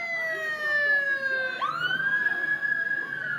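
A police car siren wails past during a street protest in Olympia, Washington, its pitch dropping sharply as it goes by, loud against a noisy outdoor background with crowd murmur.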